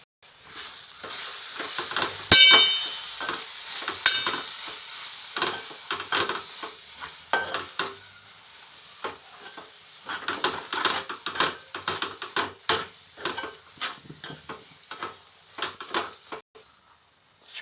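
Gongura leaves with salt and chilli powder sizzling in a pan while a spoon scrapes and stirs in irregular clattering strokes, close up with no voices.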